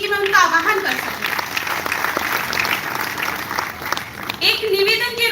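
Audience clapping at a Hindi poetry recitation, a steady burst of applause filling the room while a voice speaks over it at the start and again near the end.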